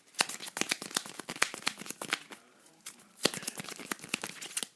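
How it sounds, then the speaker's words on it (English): A small stack of about ten playing cards is hand-shuffled up close, producing quick crisp riffling clicks in two bursts separated by a short quiet gap. "the more cards you have while shuffling, it's going to be more difficult"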